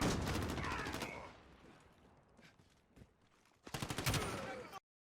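Gunfire in Call of Duty Modern Warfare: a burst of rapid automatic shots, a lull with scattered single pops, then another sharp rattling volley close by before cutting out.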